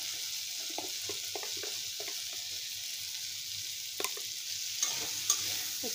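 Spiced fish curry frying in a pan with dried chili powder and cumin powder, a steady soft sizzle under repeated scraping stirs of a spoon, with a few sharper clicks near the end.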